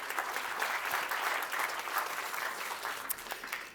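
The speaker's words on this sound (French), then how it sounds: "On vous applaudit encore." Audience at a French awards ceremony for medical journals applauding, sustained even clapping from a crowded hall at moderate distance, continuing without a break.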